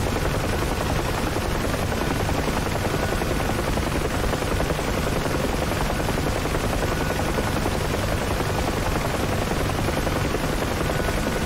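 Huey helicopter in a VR flight simulator game, a loud, constant rotor and turbine roar with fast rhythmic blade chop filling the whole stretch, with no voices over it.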